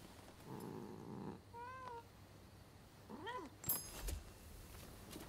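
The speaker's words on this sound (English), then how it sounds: "This cat stands no chance." In the video game Rise of the Ronin, a cat gives several short rising meows, a soft purr-like rumble early on, then a louder sharp burst near the end, with game ambience around and no talking.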